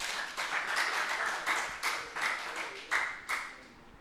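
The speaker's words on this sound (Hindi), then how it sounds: "तिलकधारी टीम के लिए एक बार जोरदार तालियां।" Audience applause for the winning team at a quiz event, several bursts of clapping rising and falling unevenly, fairly close, with brief gaps between surges.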